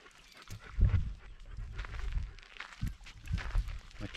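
Dogs pant and patter along on a morning walk outdoors, with close breathy huffs and scattered footsteps and rustles mixed in.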